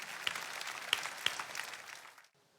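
Congregation clapping in a church, a fairly distant wash of hands with a few sharper individual claps standing out, fading and cutting off abruptly near the end.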